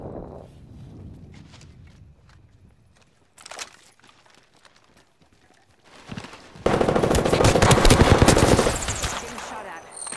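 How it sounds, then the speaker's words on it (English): Bursts of Apex Legends gunfire: scattered shots early, then a sustained loud volley of rapid automatic fire near the end, with quieter footsteps and movement between. "Getting shot at."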